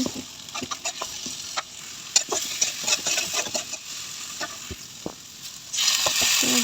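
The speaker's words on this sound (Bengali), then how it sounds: "প্রায় মোটামুটি পেঁয়াজ ভাজা হয়েছে" Onion, chili and tomato fry in a pan for a Bengali-style fish bhuna, with steady sizzling and scraping stir strokes throughout, and a louder burst of frying near the end.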